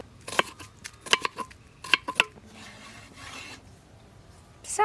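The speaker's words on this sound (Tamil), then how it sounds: "மீன் குழம்புக்கு தேவையான நாட்டு காய்கறிகளை நறுக்கிடுவோம் வாங்க" Sharp knife strokes scrape and crunch against a board in quick irregular bursts, close up, cutting country vegetables for fish curry outdoors in a village, followed by softer rustling and a final scrape.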